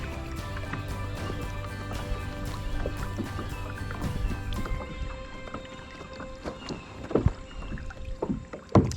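Canoe paddling on the Chassahowitzka River in Florida, with soft water swishes and drips over a steady outdoor background, a few sharper knocks and splashes near the end.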